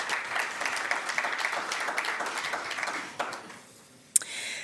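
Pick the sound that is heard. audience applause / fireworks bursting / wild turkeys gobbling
audience applause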